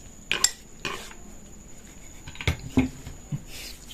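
Ukoy mixture being stirred in a pan, a handful of scattered scrapes and clinks of a utensil against metal with quiet gaps between them, close and without talk.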